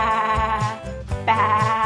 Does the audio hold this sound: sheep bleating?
yes